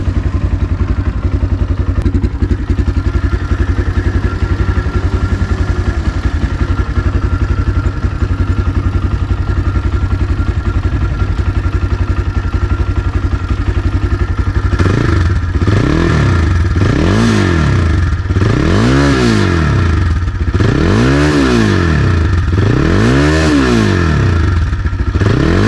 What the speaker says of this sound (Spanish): así es como suena esta Ranger Sahara